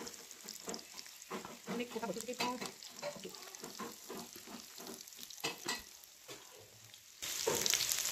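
Fish frying one at a time in hot oil in a pan over a charcoal stove, with crackling sizzle and occasional clatter, a louder burst of sizzling near the end; faint voice underneath.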